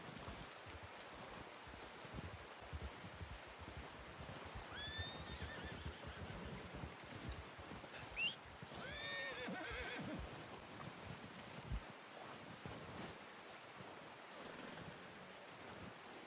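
Horses whinny and neigh in the open world of the Red Dead Redemption 2 video game, the calls rising over a steady wash of wind and outdoor ambience with faint hoof and tack sounds, at a moderate distance.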